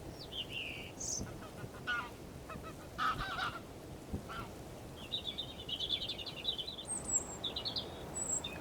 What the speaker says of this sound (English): as a couple of geese give me a flyby on the way to a local reservoir.